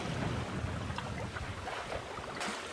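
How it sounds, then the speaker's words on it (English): A sailboat under a big genoa glides along at about four knots in light wind off the coast near Mackay, giving a steady broadband rush of water and wind noise, moderately quiet, with no talking. "I've got this big Genoa still coasting us along at about 4 knots in not very much wind."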